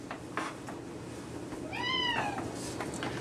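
A cat gives a single clear, rising-and-falling meow near the microphone, heard over a low kitchen background while cream cheese dip is being made in a blender.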